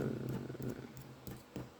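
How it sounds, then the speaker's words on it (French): A depressed house cat purrs and murmurs close by, a low rumbling purr broken by short faint bursts over a quiet indoor background. "vous allez l'entendre très régulièrement sur la vidéo, j'ai un chat dépressif."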